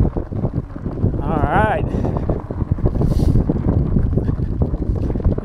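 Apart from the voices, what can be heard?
wind blowing on a bike ride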